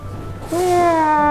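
A single drawn-out cat meow starts after a short pause and holds steady and loud, with faint background noise before it.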